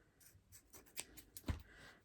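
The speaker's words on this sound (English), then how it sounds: "So I'll just cut that off." Scissors snip through excess macrame cord while finishing a hanger, giving a couple of soft, close cuts with a sharper snip near the end, alone and quiet.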